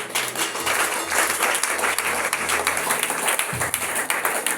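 A church congregation applauds and cheers for Jesus, steady dense clapping from a large crowd with a low musical drone underneath, continuous and lively throughout.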